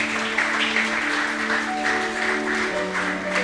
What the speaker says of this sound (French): Acclamons pour la bonne parole du Seigneur.